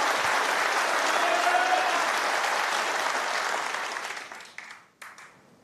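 Snooker crowd applauding in an arena during a tournament semi-final, steady dense clapping that holds for several seconds then tapers off to a few scattered claps.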